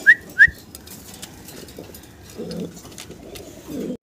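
Pigeons coo softly at a pigeon farm, with low, muffled coos in a few bursts and a couple of brief sharp whistles early on, in a quiet setting without talk.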